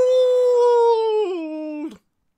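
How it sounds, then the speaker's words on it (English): A single long wolf howl in an audiobook reading, loud and close, holding a steady pitch before dropping lower and cutting off abruptly, with silence after. "It opened its dripping maw and howled."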